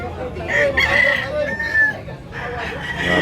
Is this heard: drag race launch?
no